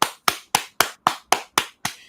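A Lego plate driven by a cam gear slaps down again and again, nine sharp, evenly spaced clacks about a quarter second apart, loud and close with no other sound.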